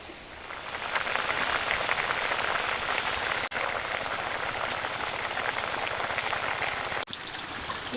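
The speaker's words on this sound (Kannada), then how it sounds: "ಇವಾಗ ಕುದೀತೈತಿ" River fish curry of onion, tomato and water boils in a pot, a steady dense bubbling and spattering that stays loud and close from start to finish, with no voices.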